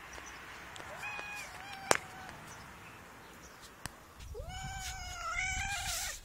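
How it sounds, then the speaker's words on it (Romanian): A cat meows in a yard, a few drawn-out, rising and falling cries standing out clearly over quiet background noise, with a couple of sharp knocks in between. "Această pisică vrea să-și caute dulcele ei puișor pe nume Portocală Marian."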